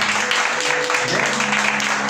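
A church congregation at a Spanish-language Sunday school service applauds to welcome Jesus, a dense continuous wash of clapping from many hands, steady and fairly loud, with a voice briefly heard over it.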